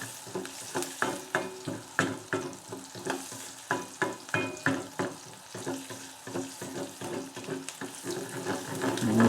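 Onions caramelising in a pan give a soft sizzle under a run of regular scraping stirs, one about every half second, which grow a bit louder toward the end.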